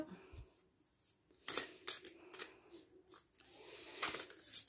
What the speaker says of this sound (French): Donc on va mélanger nos cartes.